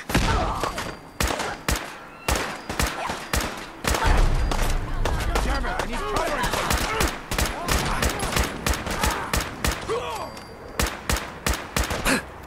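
Rapid gunfire in Fallout 4 crackles in repeated loud bursts and single sharp shots throughout, with someone talking between volleys and a heavy explosion-like rumble partway through.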